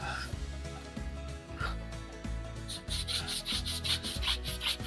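A detailing brush scrubs the brake calipers of a Mercedes SL550 with rapid, repeated rubbing strokes up close, growing brisker and more rhythmic toward the end.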